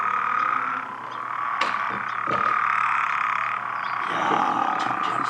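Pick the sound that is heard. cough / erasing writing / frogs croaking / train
frogs croaking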